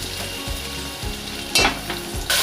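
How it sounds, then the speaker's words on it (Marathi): Ginger, garlic and green chili paste hits hot oil with cumin and dried red chili for a dal tadka, giving a steady close sizzle with several louder bursts of spitting and stirring scrapes. "त्यात आता मी 1 चमचा आला, लसूण आणि मिरची वाटून घेतली होती ती टाकणार आहे"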